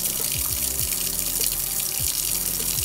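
A seafoam green mint aromatherapy soap bar being lathered under a running tap, steady rushing water with a few soft splashes and squelches from the hands, close and continuous.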